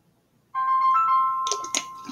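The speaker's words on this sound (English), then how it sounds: "So I think they're calling me now." After a short silence, a mobile phone rings with a steady electronic melody. The call is from a car mechanic, and a couple of sharp clicks or knocks land near the end.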